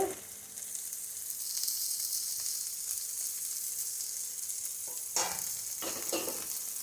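Onions frying in a pan for semiya upma, a steady soft sizzle with a few scraping stirs of a spoon near the end, quiet and without speech.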